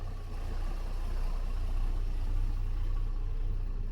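Engine of a Nordic Tug 37 boat, clean-running and very quiet, idles in a smooth, steady low drone heard alone at close range after a gentle rise in level.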